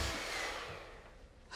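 Hair dryer blowing hot air, a broad breathy rushing whoosh that starts fairly loud and gradually fades over about a second and a half, with no talk.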